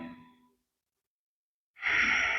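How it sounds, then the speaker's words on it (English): A seated yoga breath through the nose tapers off into silence, then a loud, airy exhale rises and holds steadily near the microphone. "In through the nose and out through the nose."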